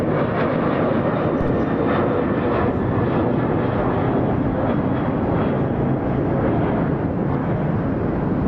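A Southwest Airlines jet departs Atlanta Hartsfield-Jackson International Airport, a loud, continuous engine roar that holds steady throughout without any voices.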